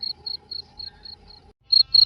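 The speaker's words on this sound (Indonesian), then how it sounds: "suara jangkrik di halaman terdengar syahdu mengantar kesenyapan malam" Crickets chirp in a yard at night, short evenly spaced trills repeating steadily, then briefly stopping before two louder, closer chirps ring out in the quiet.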